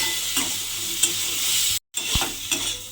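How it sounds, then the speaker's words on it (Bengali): Spiced soybean chunks frying in a pan and being stirred, a steady close sizzle with soft scraping strokes and a brief dropout partway through, with no talking. "দিয়ে এবার সয়াবিনটা একটু ভালোভাবে কষিয়ে নিতে হবে।"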